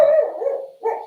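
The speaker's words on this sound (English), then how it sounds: "and that's my dog." A dog gives a single loud bark that trails off into a drawn-out howling tone, followed by a short second yelp, close by and alone.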